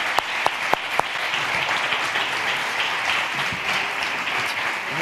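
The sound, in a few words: audience applause at a conference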